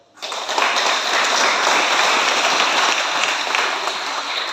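At a church seminar, the congregation bursts into applause after a brief silence, then keeps up a loud, dense, steady clapping that fills the room.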